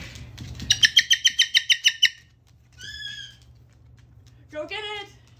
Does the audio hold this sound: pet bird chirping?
yes